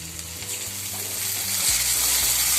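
Tomatoes sautéing in a pan with onion and ginger-garlic paste, a steady close sizzle and frying hiss with occasional stirring scrapes, growing slightly louder toward the end.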